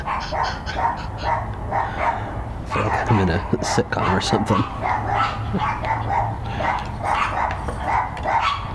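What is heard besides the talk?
dogs barking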